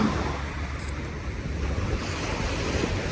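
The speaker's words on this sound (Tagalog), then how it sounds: "eto na ang ating dagat" Sea waves washing onto the gray sand beach of Manila Bay, a steady loud surf wash mixed with wind rumble against the microphone, continuous with no talk.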